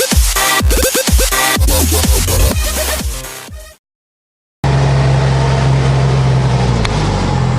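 A car drives along, heard as a steady, loud interior rumble with a low engine drone that starts abruptly after a short silence and continues evenly to the end.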